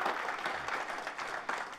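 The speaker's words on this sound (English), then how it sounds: "Big clapping." Audience at a Denver small-business pitch event claps, a dense, even wash of applause from many hands filling the room without pause.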